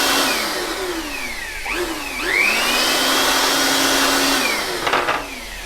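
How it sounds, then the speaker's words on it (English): A Jakmister 600W electric air blower runs steadily, its high whining rush of air rising and falling in pitch as the motor speeds up and settles, loud and close throughout with no talk. "Now we're going to blow air."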